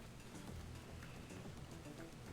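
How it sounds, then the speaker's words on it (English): Steady rain falls in the survival video game ATLAS on a rainy morning, a soft continuous hiss of drops with no voices. "a rainy morning here at Alford though."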